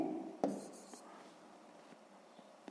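A pen scratches across paper while solving a sixth-grade math exercise, with a short initial rub followed by faint, sparse strokes and taps close by in a quiet room.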